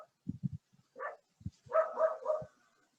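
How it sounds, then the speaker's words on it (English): A dog barks frantically some distance away, a few sharp muffled barks followed by a rising, yelping run of calls, with quiet gaps between. "I hope the dog noise is not disturbing too much"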